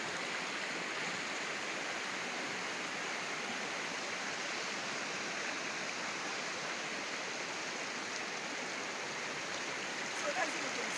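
Water flowing steadily at the Ikogosi warm spring, a continuous close rushing wash that holds even throughout, with a brief small knock near the end.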